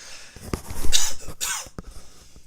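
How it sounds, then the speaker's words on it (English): A couple of short, sharp coughs close to the microphone, with quieter breathy sounds between them. "I'm gonna cough."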